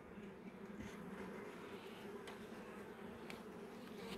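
Close, steady buzzing of honeybees at a mating nucleus hive, a dense continuous drone with occasional nearer buzzes passing by, no talk.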